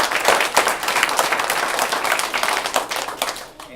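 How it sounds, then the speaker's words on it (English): A crowd at an end-of-summer celebration for a health university in Charlotte breaks into steady, dense applause, many hands clapping together at close range before the sound thins out near the end. "Y'all give him a special round of applause."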